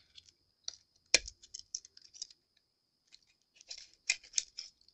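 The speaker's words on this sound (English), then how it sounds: "You want to make sure your knife is sharp so it will cut" A sharp craft knife cutting out wooden butterfly decor produces scattered quiet scratching and clicking strokes, with one sharper snap near the start and a cluster of cuts toward the end against a silent background.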